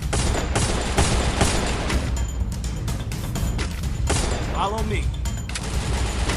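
Rapid bursts of gunfire from a shooter video game, loud and sustained throughout with dense overlapping shots and a brief whistling effect midway.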